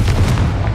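A Confringo fire-blast spell exploding in Hogwarts Legacy: one short, loud, deep boom that rumbles through its brief length.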